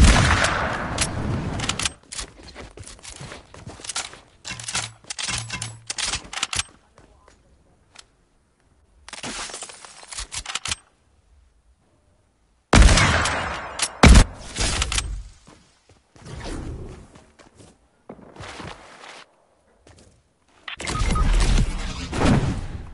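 Bursts of Fortnite gunfire crack out in separate volleys, loud and close with quiet gaps between, mixed with game sounds and a voice talking over parts of it.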